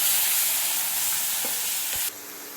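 Tomato going into a pan of sautéed small onion and hing for coriander rasam, a loud, dense sizzle with a couple of stirring knocks before the frying noise drops sharply as the tomato lands.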